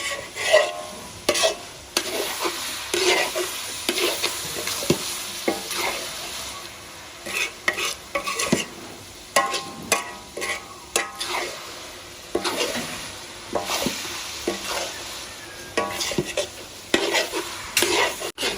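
Spicy Thai kua kling minced pork being stir-fried in a pan, with steady sizzling and repeated scraping stirs of the spatula throughout.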